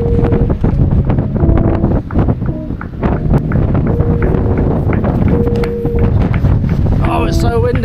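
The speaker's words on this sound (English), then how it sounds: "Oh, it's so windy!" Heavy wind buffets the microphone in a constant low roar on an exposed hilltop nearly 2,000 feet up on Kinder Scout in the Peak District, with people talking over it throughout.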